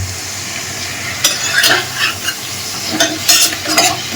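Sliced pork sizzles in a hot pan as it browns, giving a close, continuous frying hiss with quick scraping stir strokes cutting in every second or so.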